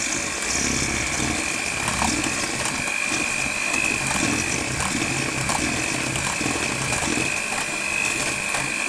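Electric mixer at low speed beating eggs and sugar, a steady close motor whir with a persistent high whine and rattling mechanical texture, continuous and without pauses.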